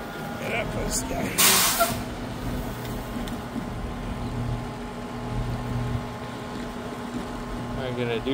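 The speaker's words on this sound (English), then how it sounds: "Sperry truck doing some track inspecting." Sperry rail inspection truck running along railroad tracks, a steady low mechanical rumble with tonal hum, plus a brief loud hissing burst early on, like an air release, continuing under background noise throughout.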